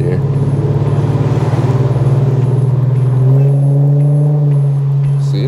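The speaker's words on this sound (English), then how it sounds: "for it to be straight pipe, it really don't sound too bad" Infiniti Q50S with a VR30 engine and straight-pipe exhaust, a loud steady low drone with a slight rise in pitch midway as the car drives, heard from inside the cabin.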